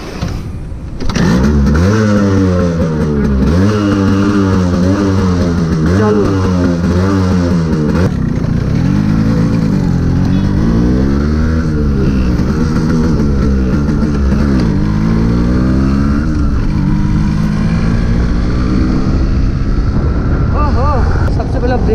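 A Yamaha RX motorcycle, the two-stroke RX 100 or 135 type, starts up and idles loud and close, then is revved repeatedly in rising and falling bursts, its engine note steady and buzzy throughout.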